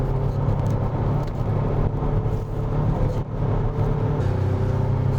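A Renault Samsung SM6 turbo facelift accelerates on the road with its electronic sound generator active, giving a steady, close engine rumble and whir throughout without talking.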